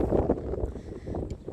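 Gusty outdoor wind buffets a microphone during a walk, a low rumbling rush that swells and eases irregularly, close and fairly quiet, with no clear talk.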